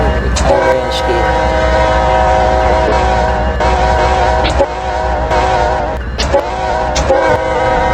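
A Conrail-liveried train passing through a road crossing in the video game Roblox, loud and steady rumble with a sounding horn and sharp clanks, alone without talk.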